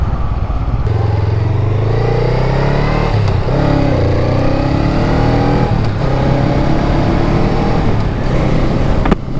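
A vehicle, likely a car or motorcycle, drives along a road with a steady loud engine drone and shifting pitch as it accelerates and changes gear, continuous from start to finish with no talk.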